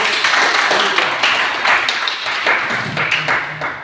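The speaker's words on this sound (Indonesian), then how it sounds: "Sangat beri tepuk tangan." Clapping from a classroom audience during a teaching performance test, a group of hands patting in uneven bursts that swell and ease, with a few louder individual claps near the end.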